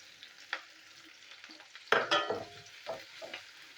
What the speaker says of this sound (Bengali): এবার আমি একটু ভেজে নেবো।